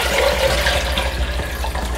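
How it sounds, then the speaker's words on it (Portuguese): One litre of water poured into a yellow Cadence Colors blender jar, a loud continuous splashing rush with a low gurgle, close and steady throughout with no talking. "Vou colocar aqui 1 litro de água."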